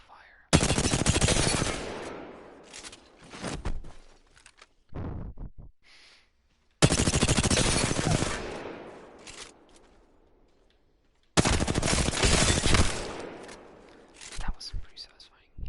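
Three loud bursts of automatic fire from light-ammo guns in the Apex Legends firing range, each a sustained rattling volley of a few seconds with brief quieter shots trailing after, separated by short pauses.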